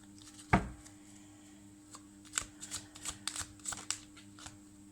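Tarot cards being shuffled and riffled, a sharp initial snap followed by a rapid run of crisp papery flicks and slaps, close and clear in a quiet room.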